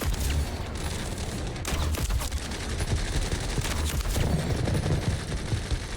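Rapid gunfire in a video game, a dense loud barrage of overlapping shots and booms that continues throughout, with no talk.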